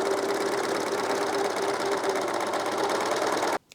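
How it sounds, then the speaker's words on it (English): A sewing machine runs steadily, stitching two pieces of fabric together into a tube, a close, continuous rapid mechanical whirr that stops abruptly near the end. "Just sewing two pieces of fabric together down either side will give you a tube."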